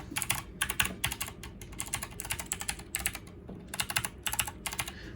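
Rapid bursts of clicky mechanical key presses on a Redragon K551 gaming keyboard, close and crisp, arriving in quick clusters separated by short pauses.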